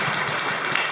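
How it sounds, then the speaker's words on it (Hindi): Applause from a church congregation at a Christian sermon gathering, a dense wash of many hands clapping steadily and close throughout the short moment, with no voices over it. "उन्होंने अच्छे से बड़ा जोरदार उनके लिए ताली बजा दीजिए।"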